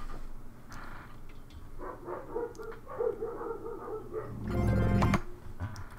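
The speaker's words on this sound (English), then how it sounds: "My dogs are barking at air." Dogs barking indoors at nothing in particular, a run of moderately loud barks followed by a louder, fuller bark near the end, with no one speaking.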